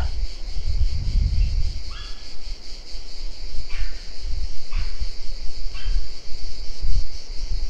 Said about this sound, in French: Ça vous a permis d'entendre les grillons.